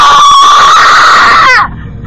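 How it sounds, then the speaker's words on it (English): Several people scream loudly out of an open window, one sustained, piercing shriek that cuts off abruptly after about a second and a half, leaving only faint background. "Quick, open up the window and scream as loud as possible."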